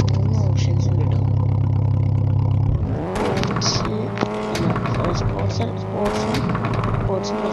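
A car in a driving school video game, with a steady engine drone that gives way to revving, shifting engine tones and clatter, loud and continuous throughout.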